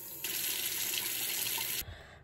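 A bathroom tap runs into a sink during face washing, a steady hiss of flowing water that starts abruptly and cuts off after about a second and a half.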